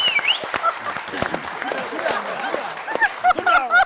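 Studio audience applause for a comedy team on a Tamil television show, a dense wash of clapping that swells and fades, with voices mixed in.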